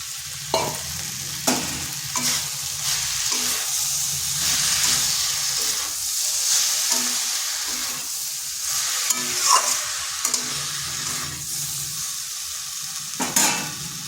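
Tomato paste hits a hot frying pan of ivy gourd (kudri) and sizzles steadily with a hissing, spattering crackle, broken by sharp spoon scrapes and clinks against the pan, close and loud.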